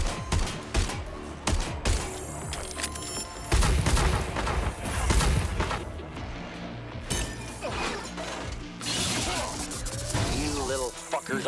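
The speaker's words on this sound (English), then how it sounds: "Shoot it open if you have to." Gunfire blasting a door open in Watch Dogs Legion, sharp shots and crashing impacts scattered through a dense, loud game mix with voices talking over it.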